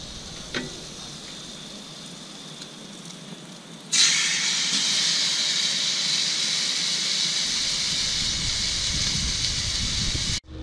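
Steak hits a hot griddle with a sudden loud sizzle that settles into a steady, bright hiss lasting several seconds close by before cutting off.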